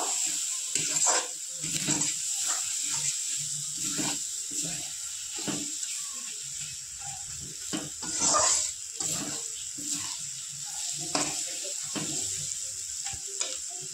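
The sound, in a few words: mutton frying with spices in a pan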